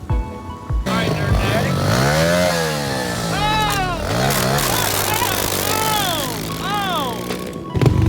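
A motocross dirt bike engine buzzes and revs repeatedly up close, pitch rising and falling in quick throttle blips, with people talking over it.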